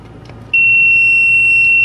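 A multimeter gives a loud, steady continuity beep that switches on abruptly and holds while a switch from a Furrion microwave is tested.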